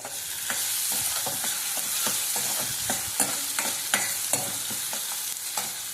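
Onions and tomatoes sauté in oil in a pan for fish curry, a constant loud sizzle broken by regular, rhythmic scrapes and taps of a stirring spoon throughout.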